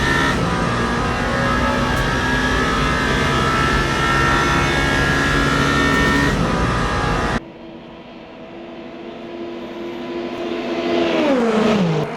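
An LMP2 prototype race car in Le Mans Ultimate drones loudly at high revs for several seconds, then the sound drops sharply as it passes, leaving a fainter engine note that rises again toward the end.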